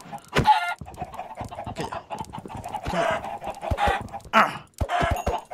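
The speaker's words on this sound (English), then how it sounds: "Can I kill a chicken?" Chickens cluck repeatedly in Minecraft, a video game, in short choppy bursts throughout, over game sounds while a person briefly speaks.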